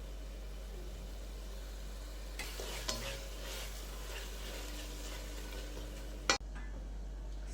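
Tomato frying under a lid in a pan for jackfruit biryani, a soft continuous sizzle with a low hum beneath, a few faint clinks, and a sharp clatter near the end, likely the lid.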